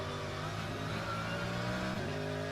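Toyota Supra race car overtaking during an endurance race at Bikernieki, a steady harmonic engine drone at high revs with a slight pitch shift near the end, distant and fairly faint.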